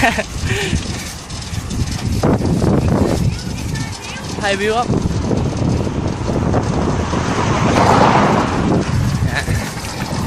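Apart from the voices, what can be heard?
strong wind blowing into the microphone while cycling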